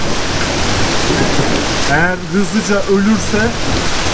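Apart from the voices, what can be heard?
rain and hail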